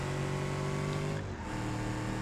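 A Subaru WRX STI engine drones steadily in a racing video game, a loud, sustained hum that dips briefly midway and then carries on as the car accelerates.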